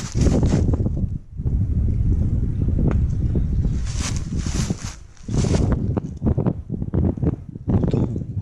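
Strong gusty wind in a forest roars and buffets the microphone in loud, uneven surges, with brief lulls and rustling bursts of falling sticks and branches between gusts.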